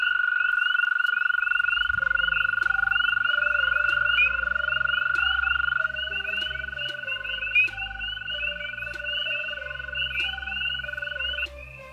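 American toads call at a breeding site, long sustained musical trills overlapping one another close by, with one dominant trill giving way to others amid a dense chorus of croaks and chirps.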